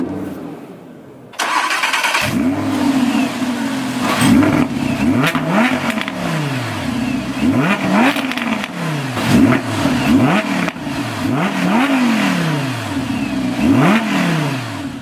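A 2018 Audi R8 V10 RWS fires up with a loud cranking burst, settles into an idle, then gets a series of repeated sharp revs that climb and drop, recorded close with no voices.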